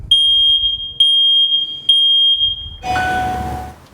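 A smoke detector gives three shrill, piercing beeps close by, each about a second long, and a burst of broadband noise follows.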